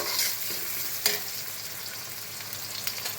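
Lentils (mung dal) and spices frying in oil for a goat-head curry, a steady close sizzle with occasional sharp stirring scrapes and crackles, no voices.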